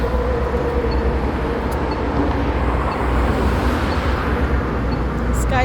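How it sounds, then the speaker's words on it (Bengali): A SkyTrain passes through Coquitlam station with a steady, loud broadband rumble and rolling noise throughout, blending with surrounding street traffic. "এখানে স্কাই ট্রেন যাচ্ছে"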